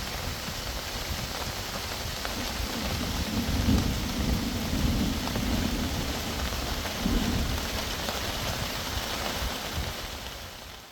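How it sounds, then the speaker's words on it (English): Heavy rain pours steadily over a fishing lake in France during a summer thunderstorm, with low rolls of thunder swelling beneath the dense hiss of the downpour. "moments later, that storm's arrived"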